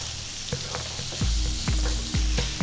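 Chicken mince frying in butter, continuous loud sizzle with a few heavy spatula strokes against the pan, no voices.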